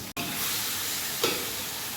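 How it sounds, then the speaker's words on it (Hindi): Beef frying in a pot gives a steady, close hiss of sizzle with a faint scrape of stirring partway through. "बीफ को अच्छी तरीके से हिला लें, 3 से 4 सेकंड पका लें"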